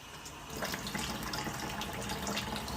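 Water runs steadily from a newly fitted monobloc kitchen mixer tap into a sink, a close, even splashing hiss that strengthens after a brief start.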